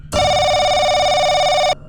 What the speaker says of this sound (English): the phone rang once more, its piercing sound cutting through the air like a razor-sharp blade